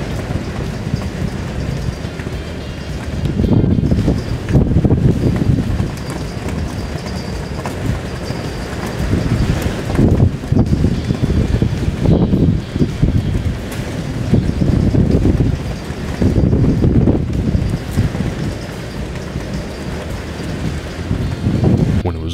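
Strong gustnado winds of about 70 mph roar past a security camera in loud, broadband surges. The gusts swell and ease in repeated waves with a rain-like rush underneath and no voices.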